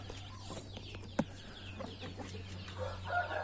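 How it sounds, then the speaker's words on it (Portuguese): A young first-time hen with her newly hatched chicks gives soft, low clucks and faint peeps, close by over a steady background hum. "Isso aqui é uma franguinha de primeira postura"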